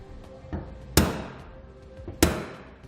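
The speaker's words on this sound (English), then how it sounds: "use your center punch to make sure you drill straight." A hammer strikes a center punch to mark drill holes while mounting a B&W Companion sliding 5th wheel hitch on a Ram, two sharp ringing metallic taps after a softer knock, close and crisp.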